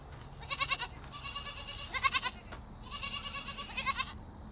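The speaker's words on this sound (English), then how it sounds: "But of course, they're baby goats, right?" Four high-pitched bleats from young goats, spaced about a second apart, fairly close, over a quiet outdoor background.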